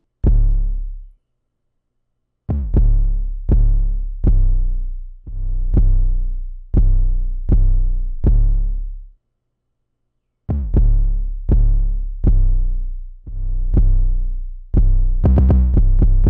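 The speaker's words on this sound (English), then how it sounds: "Pretty basic Zay 808 pattern." Deep, booming 808 bass notes hit in a rhythmic ambient plugg pattern made in FL Studio, each with a long decaying tail, pausing briefly before the sequence resumes and ends with a quicker roll.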